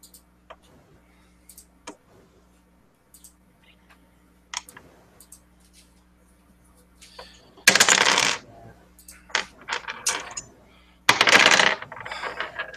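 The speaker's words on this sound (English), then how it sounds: "I was just making a tower out of my dice." Plastic gaming dice are stacked into a tower during a tabletop roleplaying session. Sparse small clicks and taps come first, then two loud, close clattering bursts as the dice tumble, with faint voices now and then.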